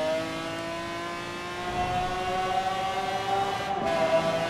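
A car cruising at top speed along a highway in Forza Horizon 4, its engine a steady sustained drone with a rising whine, loud and continuous with no pauses.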